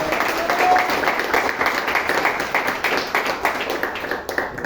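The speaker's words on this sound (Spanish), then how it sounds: "Bríndele un fuerte aplauso al Señor." Church congregation clapping at the close of a sermon, a dense, roomy burst of many hands that holds steady for several seconds before starting to thin out at the end.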